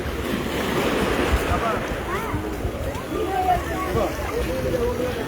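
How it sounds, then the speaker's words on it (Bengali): Sea waves wash and roll steadily at Digha Mohana beach, a constant broad surf roar with wind buffeting the microphone, while faint voices and other sounds come and go in the background. "রবিবারের সকালে দীঘার মোহনা সমুদ্র সৈকত"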